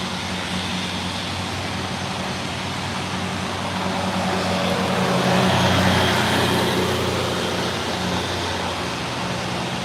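A truck at night at SpaceX Starbase in Boca Chica, Texas, gives a steady broad engine rumble that swells midway and then eases, over a constant outdoor hum, with no talking.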